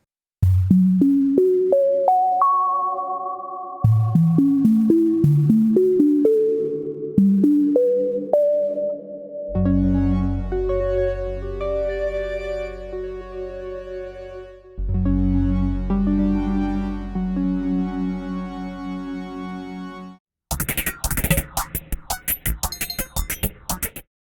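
A Korg opsix FM synthesizer keyboard plays rising arpeggiated synth notes, then sustained bright chords with deep bass, ending in a short burst of harsher, metallic tones.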